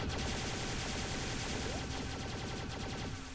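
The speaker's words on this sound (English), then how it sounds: "Next up, the Vaporizer. Two-handed assault rifle." Rapid automatic gunfire from the Vaporizer, a two-handed assault rifle in the game Starbound, rattling continuously at close range and at steady loudness for the whole burst, with no talking.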